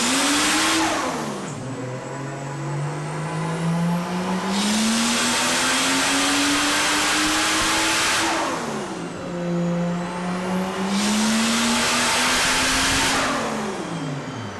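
2JZ-engined Mustang on a dyno, revving hard in two long pulls that climb steadily to a loud scream, each ending in a sharp rushing burst from the wastegate dump before dropping back.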